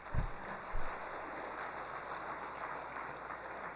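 Church congregation clapping together at a worship service, a steady wash of hands that sounds fairly quiet and distant, opening with a couple of low thumps.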